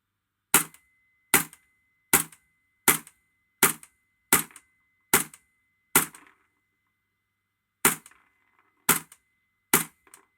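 Close, sharp single shots from an EMG Noveske N4 airsoft rifle fed by a Guns Modify magazine: nine evenly spaced cracks about every 0.65 seconds, a pause, then three more shots, with no talking.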